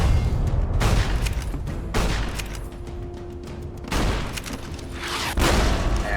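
Rocket launcher blasts and explosions in Fallout New Vegas, loud booming bursts that come about every two seconds, each with a rumbling decay, close and dense, with no talking over them.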